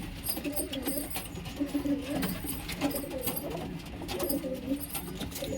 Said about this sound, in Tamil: ப்யூர் ஒயிட்டு தான் புறா நல்லா சூப்பராக இருக்குது